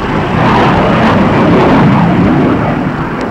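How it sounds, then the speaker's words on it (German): Swedish Draken jet fighter flying at a 1960 demonstration for Switzerland, a loud, continuous roaring jet rush that holds steady, heard on an old film soundtrack. "Die Beweglichkeit des schwedischen Flugzeuges ist sehr groß."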